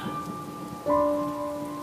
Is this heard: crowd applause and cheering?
no